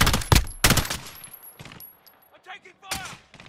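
Rapid gunfire in a shooter game: several loud, close bursts at the start, then quieter scattered shots and a final burst, with a steady high whine in the background.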